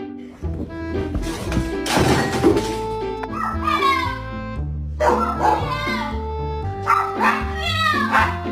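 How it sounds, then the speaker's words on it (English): A Chihuahua barking in repeated sharp yips and high barks, coming close and loud in several bursts with brief pauses between them. "Guard Chihuahua on"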